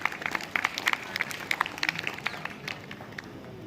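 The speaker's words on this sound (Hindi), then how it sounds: "तो जोरदार तालियां।" Audience at an award ceremony for a Hindi fortnight event gives a short burst of scattered clapping, fairly faint and distant, tapering off after a few seconds.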